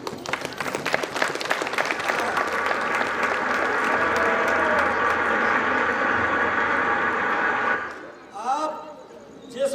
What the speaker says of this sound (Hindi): अब बजा ताली।